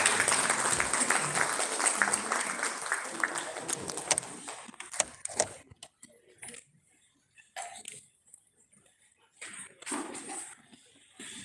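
An awards-ceremony audience applauds a prize going to NASCOM, a dense wash of clapping that thins out after about five seconds into scattered claps, a few hall noises and brief murmurs.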